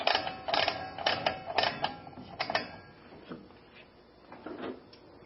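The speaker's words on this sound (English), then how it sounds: "Now when we come back to reset the system, we first want to kind of hang on to our cable, ratcheting that first." Mechanical clicking from a cable being ratcheted on a Pyrochem kitchen fire suppression system during reset comes in a series of quick, moderately close clicks, then trails off into fainter handling noises.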